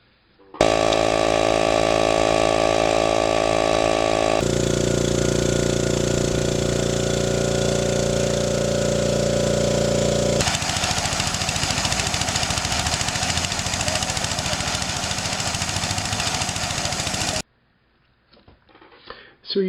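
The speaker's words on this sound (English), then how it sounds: "a 3-cylinder compression device used for a jackhammer" A three-cylinder air compressor for a jackhammer runs loud and close, a dense mechanical drone that changes character in distinct sections before cutting off abruptly.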